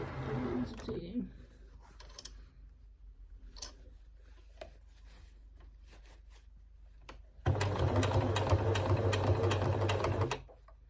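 A sewing machine stitches a collar onto a polka dot dress for a Luna Lapin doll. Quiet handling noises come first, then the machine runs in one loud, even burst of about three seconds.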